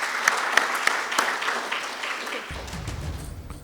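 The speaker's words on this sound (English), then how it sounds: "Give them a round of applause." An audience applauds the Makueni Boys debate team, a mix of clapping with a few sharp claps at the start that fades into a lower crowd murmur, not very loud.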